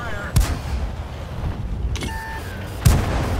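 Tank cannon shots in World of Tanks, fired by an AMX 12t light tank: two loud, sharp booming blasts about two and a half seconds apart over a steady low battle rumble, with a brief ringing ding between them.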